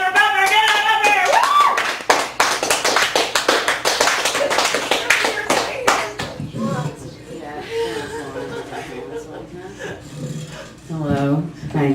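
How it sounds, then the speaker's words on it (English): Audience applause and cheering at a poetry open mic in a Chicago café gallery, a burst of rapid clapping for the first half that fades under chatter, laughter and nearby voices. "give a screaming round of applause for Bumper"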